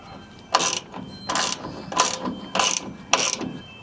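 A ratchet tightens the strut top bolts on a Toyota Tacoma, five quick, close clicking bursts in an even rhythm with short pauses between, no talk.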